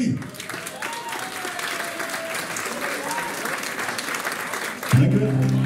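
Loud, sustained applause from a crowd at a live music show, greeting a performer coming onstage; dense clapping fills the whole stretch alongside faint vocal tones, and a strong low musical note enters near the end.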